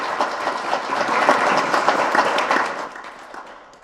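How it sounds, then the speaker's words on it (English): A round of applause for Sue Allen, the president, at an economic prosperity forum: a room of people clapping at a moderate level, building in the middle and then tapering off near the end. "Give Sue Allen a big round of applause"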